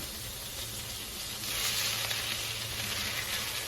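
Chicken pieces fry in a pan with vinegar and dark soy sauce for chicken fried rice, giving a steady close hiss of sizzling oil that swells louder partway through, with no voices.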